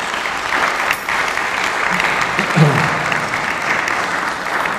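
An audience at a historical conference applauds warmly, a thick continuous wash of clapping hands that holds steady and swells briefly midway, with a voice faintly beneath.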